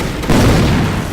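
A grenade bursts in a first-person shooter game on a sandstorm map, a loud, close, deep boom that swells suddenly and rumbles on without fading for about a second.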